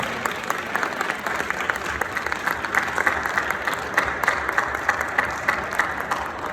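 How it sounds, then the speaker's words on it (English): An audience at a fintech startup award ceremony applauds an all-female founder team, a sustained wash of many hands clapping at moderate volume with a faint voice or two mixed in. "give them a big round of applause, the second all-female founder team."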